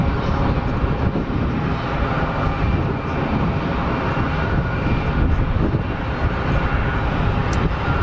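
An Air France airliner lines up for departure at Geneva Airport, with a steady, loud broadband jet engine roar holding at one level throughout, plus some wind rumble on the microphone.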